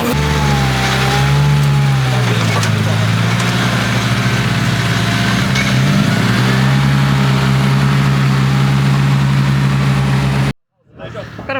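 A Mazda RX-8 drift car's engine runs loud and steady for its first practice drive at a drift event, its pitch rising and settling through a few blips, then cutting off abruptly near the end.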